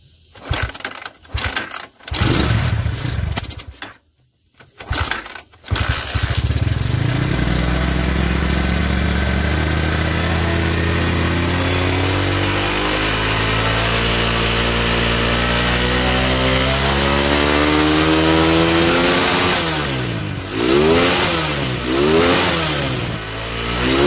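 A Honda Megapro motorcycle with a sputtering, misfiring fault cranks with a few short starter bursts, catches and settles into a steady, close idle, then gives several rising and falling throttle revs near the end.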